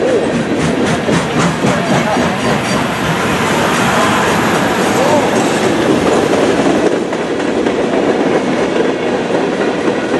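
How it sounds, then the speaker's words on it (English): A Norfolk Southern freight train hauling Santa Fe and BNSF cars rolls past loudly and steadily, with rhythmic clickety-clack of wheels over rail joints and occasional metallic squeal, no talking. "Bunch of Santa Fe stuff on this train."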